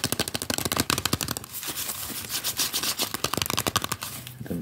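Cardboard chocolate packaging is handled up close, giving quick rustling scrapes and taps in bursts with short pauses between them.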